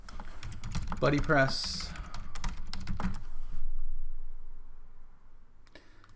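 Computer keyboard typing in short bursts of close clicks, overlapping someone speaking briefly, then trailing into near silence.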